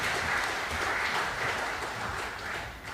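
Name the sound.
applause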